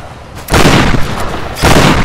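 Shotgun blasts in the Tomb Raider video game, two loud, close booms a second apart, each with a short rumbling tail.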